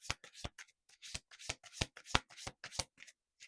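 Slippery oracle cards are shuffled by hand in a quick irregular series of crisp riffling snaps, close and fairly quiet, with no talking.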